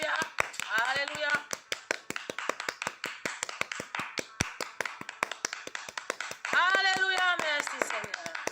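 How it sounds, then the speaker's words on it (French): A congregation clapping in steady rhythm during early-morning worship praise, regular sharp claps throughout, with sung or chanted voices rising over them near the start and again near the end. "Applaudissons le Seigneur avec moi"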